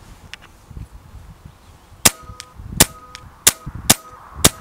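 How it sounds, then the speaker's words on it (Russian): A series of sharp, single shots from a Hatsan Flash air rifle firing H&N pellets, about five evenly spaced cracks with metallic pings, close by, with faint quieter clicks beforehand. "Также серию по 5 выстрелов."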